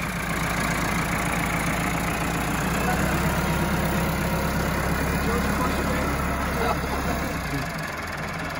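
A tractor engine drones steadily at a farm, a close, continuous low rumble that drops away just before the end.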